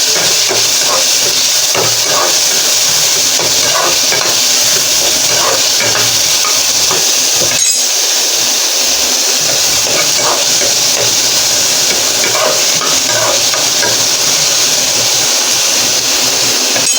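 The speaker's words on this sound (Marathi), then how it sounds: "त्यानंतर कापलेला कांदा, टोमॅटो. सगळं चांगलं परतवून घेऊया." Chopped onion and tomato frying in a pan with a loud, steady hiss that holds nearly unbroken throughout, with faint stirring scrapes now and then.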